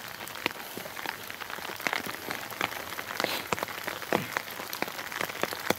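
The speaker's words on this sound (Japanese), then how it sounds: "いや、すげえ降ってんな、雨な。結構な雨だよ" Heavy rain pours down in a forest at night, a dense, steady hiss of water peppered with sharp, close drop impacts, continuous and alone without voices.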